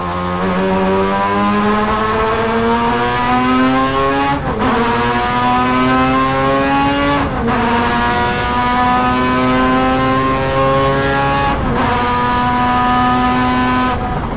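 Mazda prototype race car with a rotary engine screams loudly from onboard as it accelerates through rising gears on a track, with several sharp upshifts breaking the steady, high-pitched wail.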